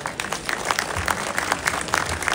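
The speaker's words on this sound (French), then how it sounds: "Vous pouvez les applaudir, je pense." A crowd at a French championship awards ceremony applauding volunteers: steady, dense clapping from many hands at moderate distance, filling the whole short stretch without a break.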